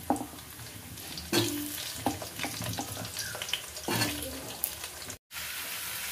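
Potatoes and garlic fry in a wok with a close, continuous sizzle, broken by repeated louder bursts of stirring and scraping and one very short drop to silence near the end.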